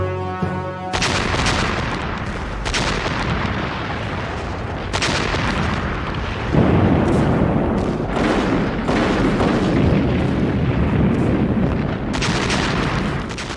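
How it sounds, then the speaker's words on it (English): A Red Army artillery bombardment of German forces: heavy, continuous rumbling booms and blasts rolling on without pause, with sharper concussive hits standing out every few seconds, loud and enveloping. "after Hitler's invasion of the Soviet Union, the guns of the Red Army began a ferocious bombardment of German forces"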